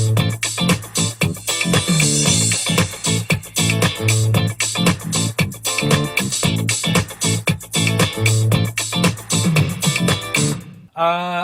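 Disco rhythm guitar run through amplifier emulation, playing choppy, rhythmic strums inside a full, loud mix with a steady low bass pulse, ending in a short abrupt cutoff.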